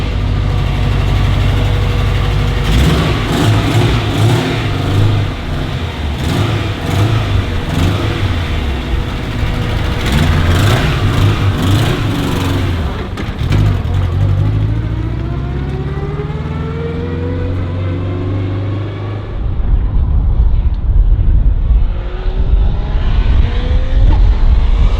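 An 800hp 4WD Subaru Legacy hillclimb car engine revving hard with anti-lag active, loud repeated blips and crackles at close range, then the revs sweep down and settle toward a rough idle before rising again.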